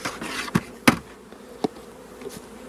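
Honey bees buzzing around an open hive during a fall hive check, with a soft continuous hum broken by a few sharp close buzzes as single bees fly past, and no talk.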